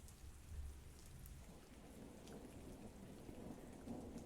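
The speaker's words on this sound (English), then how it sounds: "Diegetic rain sound." Steady rain pours in a continuous hiss with a low rumble beneath, heard alone at a quiet, even level.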